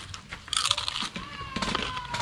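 Crisp crunches of biting into crackly Filipino-style roasted pig skin, a few sharp close bites followed by chewing, loud and right at the mouth.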